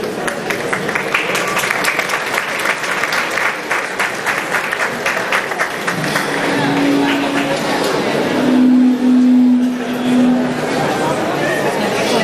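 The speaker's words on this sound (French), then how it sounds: "On les applaudit s'il vous plaît" A crowd at the Miss Burundi pageant applauds the candidates after their project presentations, a loud, dense wash of clapping that fades into murmured chatter, with a low, steady hum in the later part.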